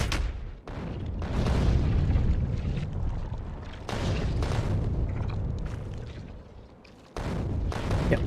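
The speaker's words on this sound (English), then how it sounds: "I love the artillery, man." Artillery shells fire in modded Factorio (Bob's and Angel's mods): heavy, rumbling booms that swell into long, sustained roars, with fresh blasts near the start, midway and near the end, loud and dense throughout.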